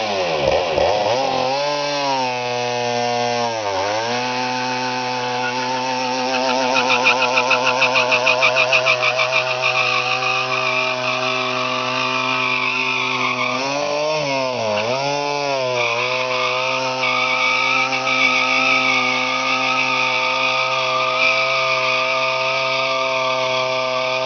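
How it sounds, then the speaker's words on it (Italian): A restricted RS 125 motorcycle engine runs close by at a steady buzzing idle, with two quick throttle blips that dip and rise in pitch, one early and one about two-thirds through. "Accendi la moto."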